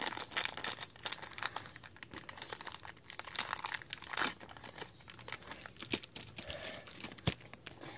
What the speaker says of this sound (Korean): 실리콘 물드를 지퍼백에서 빼냈는데요